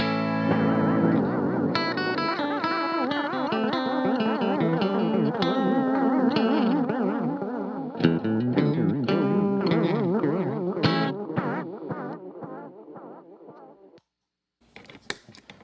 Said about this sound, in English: you'll notice the compressed tones being overwhelmed by the vibrato on this thing